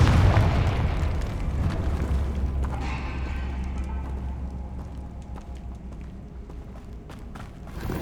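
A Confringo blasting spell explodes in Hogwarts Legacy, a deep boom at the start that decays into rumbling debris and scattered crackles, followed by footsteps and small pops.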